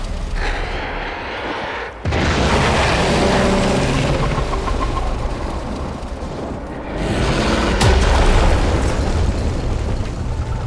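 A loud in-game explosion in Warframe, a sustained roaring blast with rumbling debris that dips briefly then surges again near the middle, dense and continuous throughout with no talk.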